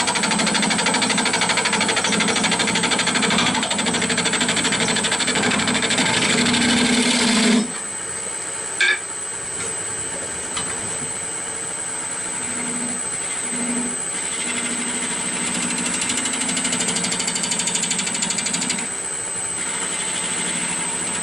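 Wood lathe spinning a baseball bat blank while a bowl gouge cuts, a steady loud whir and cutting rasp that drops abruptly partway through to a quieter hum with faint scraping and a brief knock.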